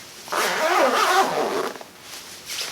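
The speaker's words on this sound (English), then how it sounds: "The zipper is like butter." A single smooth jacket zipper pull, one long zip of about a second and a half, close and fairly quiet.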